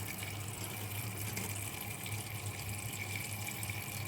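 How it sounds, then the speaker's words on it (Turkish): Purified water pours steadily into a pot for an Ottoman-style fruit compote sherbet with dried fruit and apples, a continuous close rushing flow with no talking. "Ve güzel arıtılmış suyla dolduruyoruz."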